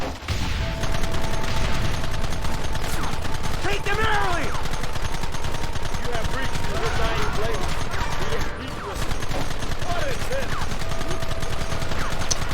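Steady gunfire exchange in the Western video game Red Dead Redemption, shots cracking repeatedly under loud game music and ambience while someone talks over it.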